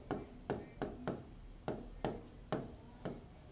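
A marker or chalk writes the Van der Waals equation on a board in a chemistry lesson, about eight short, quiet scratching strokes in an uneven rhythm with no talking over them.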